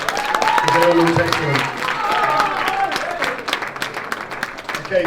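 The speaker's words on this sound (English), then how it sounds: "let's give the other 3 guys a big round of applause as well" Audience at a bodybuilding show applauding and cheering for the competitors, a loud crowd wash with scattered claps while someone talks over it.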